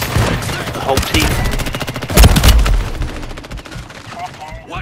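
Loud, rapid bursts of automatic gunfire in a first-person shooter video game crack out close and repeatedly, with players' voices calling out between shots.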